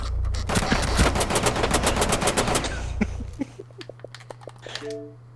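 Rapid automatic gunfire in a video game rattles out in a loud, continuous burst for about two seconds. A few scattered single shots and clicks follow.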